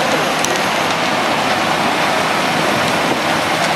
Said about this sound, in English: And it's raining pretty.